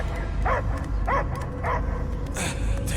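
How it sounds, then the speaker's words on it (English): A dog barking inside the Marvel's Guardians of the Galaxy video game, a few short muffled barks and yips spaced about half a second apart over a steady low rumbling ambience. "I hear only barking."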